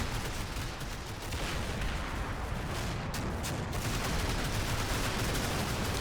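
A dense, continuous wall of gunfire fills a video game battle, with overlapping rifle and machine-gun bursts and distant explosions at steady loudness, and no voices are heard.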